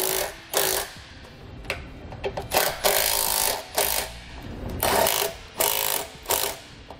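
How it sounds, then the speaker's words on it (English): A 13 mm socket wrench ratchets repeatedly while bolts are tightened on a travel trailer leveling jack, giving short bursts of clicking, close and fairly loud with brief pauses between strokes. "And then we'll tighten them down with a 13 millimeter socket."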